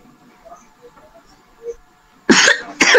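After a quiet stretch, two loud, close coughs burst out back to back, harsh and breathy, near the end.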